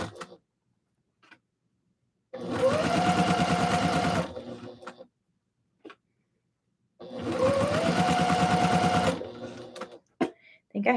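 A sewing machine stitches a tutu in two loud, steady bursts of about two seconds each, with quiet pauses and small clicks between them.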